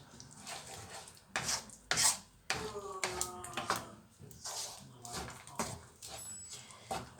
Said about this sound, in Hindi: ये देखें इस तरह से आपने चम्मच चलाते रहना।